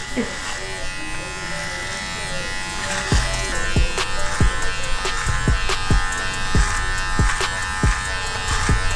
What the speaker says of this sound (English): we're finna go in and make the first guideline using my Babyliss trimmers